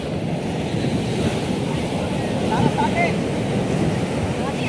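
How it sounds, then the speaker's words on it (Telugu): Ocean waves of the Bay of Bengal at Chennai's Marina Beach roll in as a steady, loud surf wash, blended with wind rumble on the microphone and no clear breaks between breakers. "అలలు బీభత్సంగా వస్తూ ఉన్నాయి."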